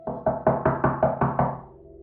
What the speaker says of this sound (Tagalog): Maya-maya, may kumatok sa pinto.